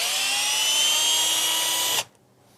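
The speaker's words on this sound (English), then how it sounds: "Overall, it's a very nice drill." A Bosch Professional cordless drill spins at high speed in second gear with a loud, steady high-pitched whine for about two seconds, then cuts off abruptly and goes quiet.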